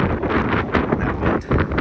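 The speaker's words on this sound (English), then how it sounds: "That wind." Wind blows hard outdoors before a snowstorm, gusting and buffeting the microphone in a close, rough rumble.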